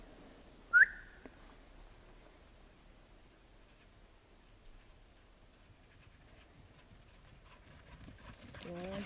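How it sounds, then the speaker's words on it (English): A single short, sharp whistle rings out on a forest trail near a pond in Maine to call dogs back, followed by quiet outdoor ambience and faint rustling. "I'm about to whistle and get them to come back."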